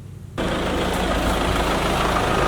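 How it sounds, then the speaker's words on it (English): A tractor engine starts up loudly and settles into a steady, close, rumbling idle on a wooded property, continuous and alone, with no voices. "So I'm taking the tractor out into the woods onto the trail"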